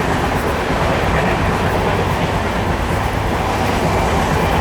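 Haripriya Express, running from Kolhapur to Tirupati, rolls along the rails with a steady, loud broadband rumble and continuous rhythmic wheel clatter from inside the coach, no voices.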